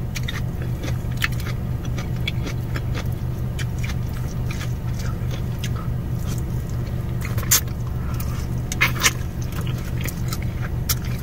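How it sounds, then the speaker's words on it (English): Close, crisp crunching of cabbage being chewed, with repeated crackly bites over a low background hum. "you hear that crunchy cabbage?"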